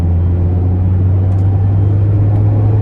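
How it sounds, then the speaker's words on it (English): Inside a 2019 Mazda MX-5 Miata soft-top roadster with a 6-speed, the engine gives a steady low droning hum with constant road rumble, loud and close from the cabin. "starting the test drive in this Miata here"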